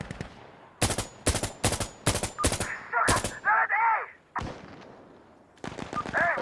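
Gunfire in Arma Reforger, with a run of loud, sharp shots in quick bursts followed by a few spaced reports and a warbling tone between them, close and dominant over the quiet background.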